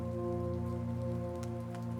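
Steady rain falling on a forest house, a soft continuous patter with scattered louder drops, close and even in level throughout, with no voices present.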